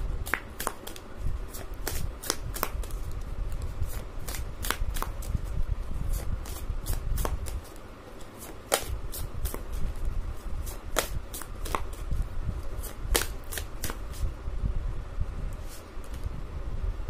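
A deck of oracle cards is shuffled by hand, giving repeated crisp riffling bursts in an irregular rhythm, close and clear over a soft background hum.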